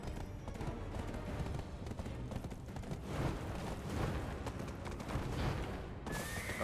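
Horse hooves clip-clop steadily in the Black Desert Online game, a tier 10 horse galloping in a continuous rapid rhythm, dense and fairly even, mixed with a thick wash of game ambience.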